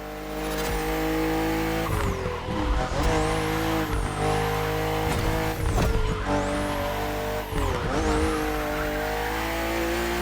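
A BMW CSL racing in the video game The Crew Motorfest, its engine roaring loud and continuous through repeated upshifts with rising revs, brief dips between gears, and a tire squeal layered on top.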